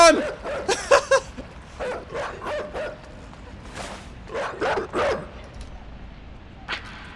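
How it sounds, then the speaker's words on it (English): A dog in the video game INSIDE barking in short, sharp bursts, a cluster of yaps followed by a few spaced barks, moderately loud and fading toward the end. "Oh no, oh no, a dog! Run!"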